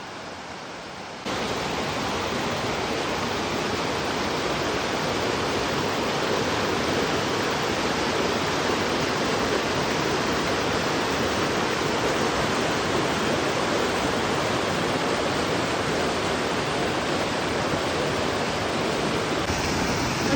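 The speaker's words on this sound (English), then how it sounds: "Pond Stream Falls" Pond Stream Falls, a waterfall on the Maine Appalachian Trail toward the Kennebec, roars as a dense, constant rush of falling water, loud and unbroken after a quieter opening second, with no voices.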